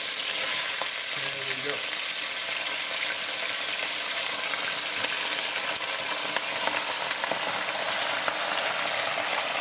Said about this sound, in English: I'm going to reduce the heat, and the lamb goes in.